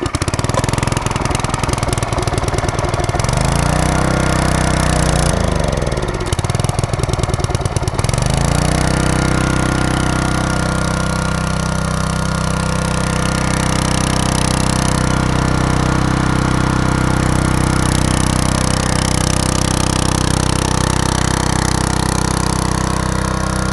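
A Powermate Coleman 3750 watt portable generator is pull-started with choke on, its small engine sputtering and revving unevenly for a few seconds before settling into a loud, steady, close running drone that continues alone.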